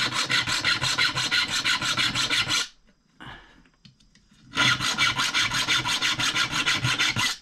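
A root-cutting tool's blade being sharpened with a file, loud close rhythmic rasping strokes in two fast runs separated by a short quieter pause with light clinks, no voices.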